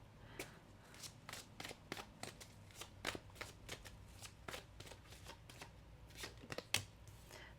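Tarot cards being shuffled and flicked during a reading, a series of crisp, quiet snaps and riffles at an irregular rhythm, close and alone with no talk.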